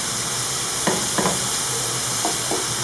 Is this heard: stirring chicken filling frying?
yes